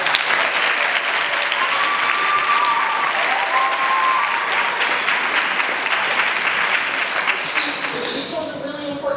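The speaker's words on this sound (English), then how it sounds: "I'd like to give another round of applause." A large audience at an International Women's Day celebration applauds for a speaker, a steady, dense wash of clapping lasting the whole stretch and thinning slightly toward the end.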